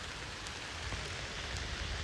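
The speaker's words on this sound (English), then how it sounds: "with the rain hitting all the leaves and stuff" Steady rain patters on leaves and foliage around an electric unicycle rider outdoors, a dense, even hiss with scattered faint drop ticks, close and fairly quiet throughout.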